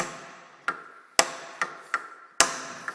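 A lapping plate blank tapped into place in a lathe chuck before a cut, giving five sharp, ringing metallic taps at irregular intervals, close and clear, with no voices.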